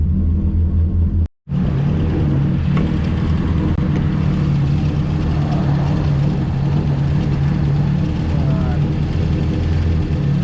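A Saab Sonett engine runs rough and misfires, a loud continuous low rumble that cuts out once near the start before carrying on steadily.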